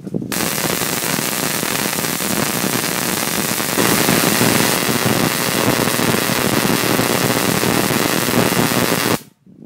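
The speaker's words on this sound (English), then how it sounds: "I'm going to fire it up again and bring the discharge probe near it" A spark gap Tesla coil runs outdoors in a continuous, loud crackling roar of rapid discharges, growing a little harsher midway, then cutting off abruptly at the end.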